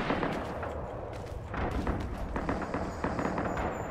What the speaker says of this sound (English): I can hear him firing, but I do not see him.